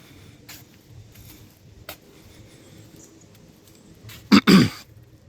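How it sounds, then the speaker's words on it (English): A quiet outdoor scene by the Venice Canals breaks into a short, loud double cough near the end, close to the listener. "Excuse me, I had the cough."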